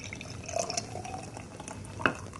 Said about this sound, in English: I'm going to pour it in here